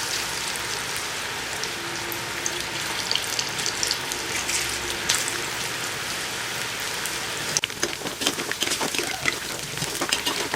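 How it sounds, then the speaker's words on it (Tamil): Crumbled potato pakoda batter fries in hot oil with a steady, dense sizzle that grows into sharper crackling toward the end, close and continuous without talk. "எண்ணெய் காஞ்சிருச்சு, பொரிச்சு எடுக்கலாம்."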